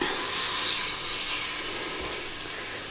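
Steady, loud hissing sizzle of food cooking in a Ninja Foodi Max dual zone air fryer, with a broad airy texture, continuous throughout and slowly easing off, with no voices.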